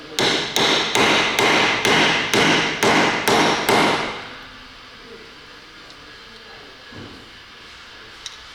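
A hammer drives a part into a Nissan X-Trail engine with about eight sharp metallic blows in a steady rhythm, close and loud, followed by quiet workshop ambience.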